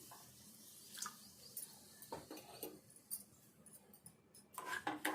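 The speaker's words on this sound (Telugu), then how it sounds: "కప్పుకు ఒక 1/2 కప్పు అయితే వాటర్ వేసుకుందాము" Water poured into a kadai holding sugar for syrup, faint splashing and trickling in short bursts with small clinks, ending in a stronger pour.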